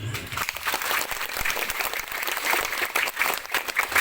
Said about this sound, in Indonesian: Tepuk tangan dulu buat mereka.